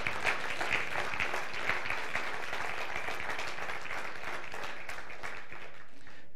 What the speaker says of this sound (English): Let's just give him a round of applause